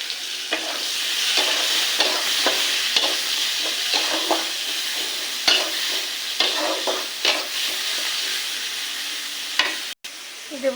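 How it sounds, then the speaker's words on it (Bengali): Chopped onion frying in hot oil in a wok, a steady loud sizzle broken by repeated stirring scrapes at an irregular rhythm, close and without talk. "কড়াইতে তেল গরম বসে এবার দিয়ে দেবো বেশ খানিকটা পেঁয়াজ কুচি।"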